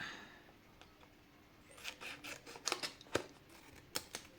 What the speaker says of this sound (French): avec un ciseau classique, voilà. On coupe comme ça.